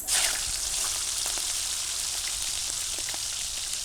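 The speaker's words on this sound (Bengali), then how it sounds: "কড়াইতে তেল দিয়ে দিছি অ্যান্ড দিয়ে দিলাম চিংড়ি মাছ" Local prawns fry in hot oil in a wok, giving a steady, bright crackling sizzle that starts with a sharp burst and holds evenly close up with no talking.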